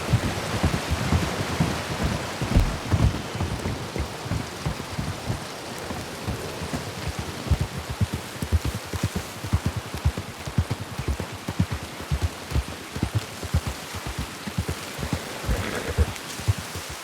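Storm rain in the Wild West game WildRP, pattering steadily and densely on surfaces with faint distant thunder rumbles underneath, a constant wash of sound with no talking.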